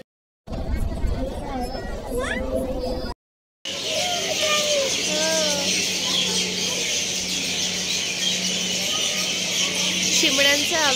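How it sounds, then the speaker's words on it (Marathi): Sparrows chirp in the open air at a temple complex with a devotees' lodge, bright repeated calls over a steady hum of distant traffic and crowd murmur, with a short gap of silence early on. "चिमण्यांचा आवाज येतोय आणि खरंच म्हणजे"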